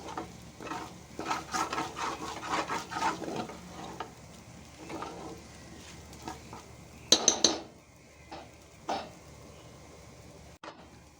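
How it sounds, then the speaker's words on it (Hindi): A spoon stirs makhandi halwa in a pan, making soft scraping, sizzling strokes in an irregular rhythm, with a few sharper clinks of metal on the pan near the end. "इसको इस चम्मच से अब मैं पका रही हूँ"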